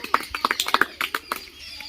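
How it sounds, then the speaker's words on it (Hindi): Children in a school classroom clap for a classmate, a quick run of about a dozen sharp, uneven claps that thin out toward the end. "मिस्टी के लिए ताली बजाओ"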